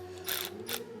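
A hand ratchet snugs the airbox bolts on an Acura MDX, two quick bursts of close clicking separated by a short pause.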